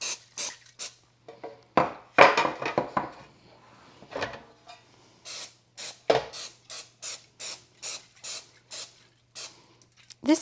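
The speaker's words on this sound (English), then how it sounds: "I'm going to start by spraying my pans with just some baking spray" Short hissing bursts of baking spray hit bread pans in a kitchen, a quick run of close, rhythmic spritzes alternating with quieter handling clatter.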